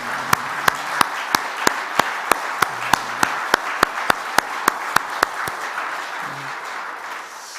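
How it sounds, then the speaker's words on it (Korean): A church congregation applauding during a Sunday worship service, steady rhythmic unison clapping with sharp evenly spaced claps over a bed of scattered hand claps, gradually thinning toward the end. "네, 박수를 한번 하겠습니다"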